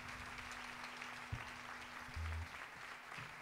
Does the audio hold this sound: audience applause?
yes